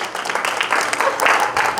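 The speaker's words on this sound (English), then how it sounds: "Let's give them a little golf clap." Meeting attendees give a soft, polite golf clap, a brief patter of light hand claps with voices mixed in.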